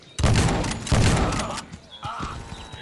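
Rapid bursts of automatic gunfire from the mobile shooter game Guns of Boom, loud and close, two dense volleys followed by scattered shots and game effects.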